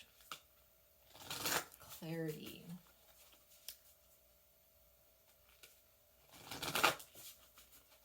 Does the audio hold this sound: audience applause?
no